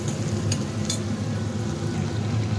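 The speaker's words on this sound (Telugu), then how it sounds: "పచ్చి వాసన పోయే వరకు ఇలాగా వేయించుకుందాం" Cluster beans fry in a pan with a soft continuous sizzle and a couple of brief utensil clinks near the start.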